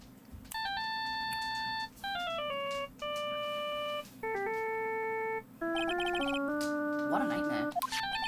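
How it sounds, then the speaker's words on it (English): A cheerful electronic phone ringtone from the Ace Attorney 2: Justice For All video game plays as a loud, continuous melody of bright synthesized tones, repeating in short phrases with brief gaps over a steady background hum. "I bet it was this ringtone that caused it"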